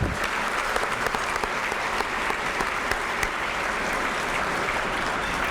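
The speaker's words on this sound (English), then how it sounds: "So just another round of applause for all those people who made it happen tonight." Continuous crowd applause at an evening event, dense and even, lasting several seconds at moderate level without a break or voices on top.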